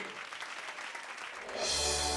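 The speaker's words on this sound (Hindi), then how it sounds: "ये जोरदार तालियां इस हमारे कलाकार के लिए।" Audience applause for a performer in a dramatized courtroom setting, a moderate steady clapping that swells louder and brighter toward the end.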